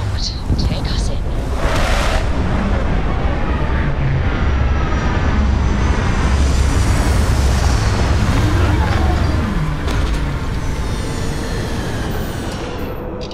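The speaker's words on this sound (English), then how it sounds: "Landing site locked. Take us in." Spaceship touching down on a planet in the video game Starfield, a loud sustained roaring rumble of engines with broadband thrust noise and shifting whines throughout, with voices speaking faintly underneath.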